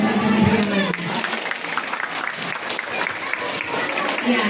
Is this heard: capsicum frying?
no